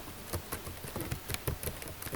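Hard, rapid keystrokes on a computer keyboard, a dense run of sharp clicks and taps in an uneven rhythm, close and fairly quiet with no voices.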